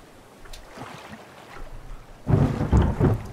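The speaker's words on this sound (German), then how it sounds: "Oha, es fängt an zu gewittern." Thunder rumbles over the ocean in a storm in the survival game The Forest, a soft rolling build followed by louder, closer cracks and booms with rain-like hiss.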